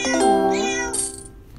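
A kitten in the video game Cat Condo gives one drawn-out, loud meow that rises and then trails off, clear and close, with no talk over it.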